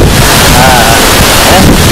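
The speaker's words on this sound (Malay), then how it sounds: "air terjun dia dekat belakang aku ni" The Lata Pen'yel waterfall roars loud and steady, a constant broadband rush with wind buffeting the microphone.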